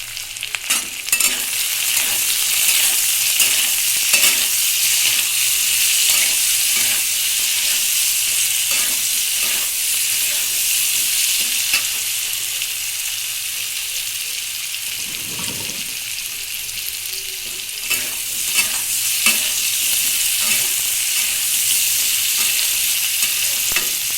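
Jaggery with a little turmeric and salt sizzles and fries steadily in a pan while being stirred, with a constant close hiss and repeated scraping strokes for the whole stretch; no one talks.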